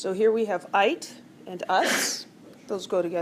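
A single sharp sneeze bursts out in a classroom during a chemistry lesson on naming acids, a brief loud broadband snort set between stretches of a teacher's continuing speech.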